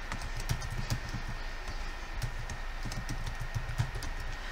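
Computer keyboard typing while text is entered for Cricut vinyl labels, a steady run of close, light key taps in an irregular rhythm over a low background hum, with no talking.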